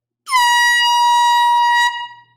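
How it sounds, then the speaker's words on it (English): A Better Boat air horn gives one long, loud, blaring blast that lasts over a second and a half and then cuts off sharply, heard close up with no talk over it. "Another one that requires the Better Boat air horn."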